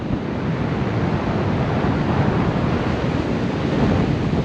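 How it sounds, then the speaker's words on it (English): Surf rolls onto Tannum Sands beach in a steady, loud wash of broadband noise, with wind buffeting the microphone and no voices. "This is the Tannum Sands beach."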